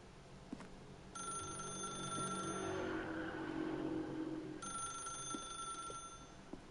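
A telephone rings in The Stanley Parable: Ultra Deluxe, a steady electronic trill sounding in two long bursts with a short pause between them, clear over a quiet room tone.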